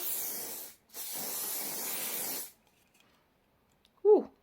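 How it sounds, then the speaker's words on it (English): Wig grip hold spray misted from a can in two steady hissing bursts, the second longer, followed by silence and a brief voice. "I'm gonna go in with this wig grip hold spray."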